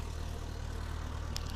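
Construction machinery engine drones nearby in a low, steady rumble with broadband noise, continuous and moderately loud throughout the short stretch, with a faint brief higher clink near the end and no talking.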